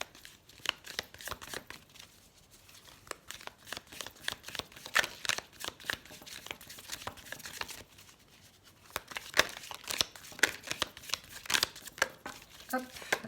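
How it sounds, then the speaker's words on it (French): Elf oracle cards being shuffled and drawn, a run of quick papery riffles, flicks and slides with brief pauses between bursts, close and crisp. "Allez, on prend une carte de l'oracle des elfes."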